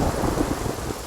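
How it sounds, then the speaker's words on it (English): A rain shower falling outdoors during an autumn family bike ride, a steady close hiss of rain with a low rumbling undertone and no voices. "It's raining."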